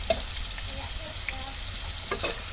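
Camote (sweet potato) fries sizzle in hot oil, a steady quiet crackle with occasional sharper pops and faint stirring clinks, heard close with no talking.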